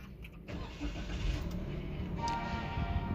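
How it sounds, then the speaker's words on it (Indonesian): A manual-transmission Daihatsu Rocky X ADS is started with its push button; a brief crank is followed by a steady, mid-level idle rumble that continues to the end. "tekan start stop engine button yang di sebelah kiri sini untuk nyalakan mesinnya"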